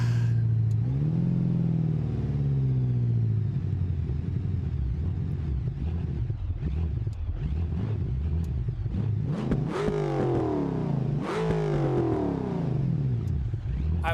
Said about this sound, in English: this is probably like the most perfectly tuned engine I've ever had in Beam. It's so drivable, it makes all the right noises.